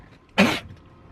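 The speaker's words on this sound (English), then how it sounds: "I gotta sneeze." A single short, breathy sneeze bursts out close by and then fades into quiet, with no talk around it.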